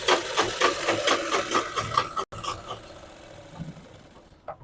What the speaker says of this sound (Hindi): इस तरह से नाप लीजिए और आधा इंच पे हम सिलाई लगाएंगे।